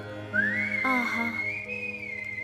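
A man whistles a melodic tune, a clear, bright sustained whistle that rises, bends and holds steady notes for about two seconds over a faint low hum.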